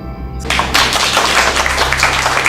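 Applause from a live audience at a union forum event, a sudden outburst of many hands clapping that holds steady and loud once it begins.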